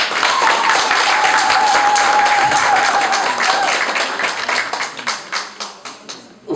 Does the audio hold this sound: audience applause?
yes